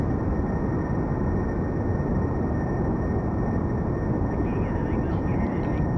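Steady broadband roar of a plane engine during takeoff in Kerbal Space Program, on a craft with procedural wings and control surfaces, constant and loud throughout with no other sounds.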